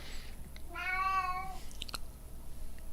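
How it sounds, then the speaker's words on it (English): A cat lets out a single drawn-out meow, close and clear, followed by a few faint clicks and small noises in an otherwise quiet room. "my cat adding commentary"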